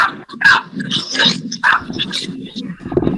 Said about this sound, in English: I'm having trouble hearing you over that dog.